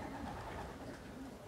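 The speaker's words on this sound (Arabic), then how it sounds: "كيطلق حمامو" Pigeons coo softly in low, throaty murmurs against a constant, noisy outdoor background, faint and short.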